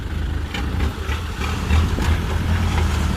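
A tractor engine rumbles deep and steady while pushing a pickup truck, a close, continuous low idle with slight rises in effort.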